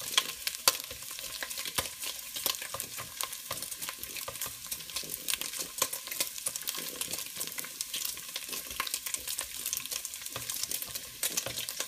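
Bacon rind and beef sizzle and fry in a pan, a steady crackling spatter with occasional stirring scrapes, close and fairly soft, with no talking.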